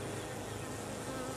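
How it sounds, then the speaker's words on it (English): Bees in a wild bee-tree colony keep up a dense, continuous buzz, faint but steady and close, with no voices. "You can see if those bees move there."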